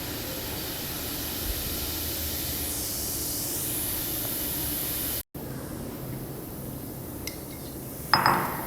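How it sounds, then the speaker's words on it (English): A chemical solution fizzes with a steady, soft hiss as bicarbonate of soda is spooned in, a few light glass clinks near the end. "We will see the solution will start to fizz."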